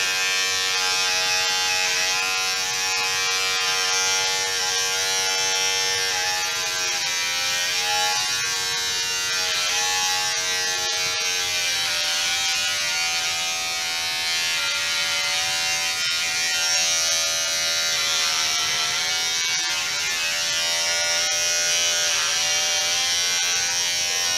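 An electric hair clipper cuts a man's hair during a haircut, giving a steady, close, continuous buzz that holds without a break and with no talking over it.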